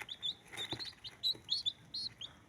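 Baby chicks, some with disabilities, cheeping: a quick run of thin, high-pitched peeps in irregular rhythm, close but faint, with light shuffling underneath and no speech.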